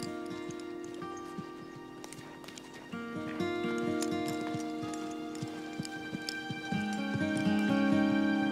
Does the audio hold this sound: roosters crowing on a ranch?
no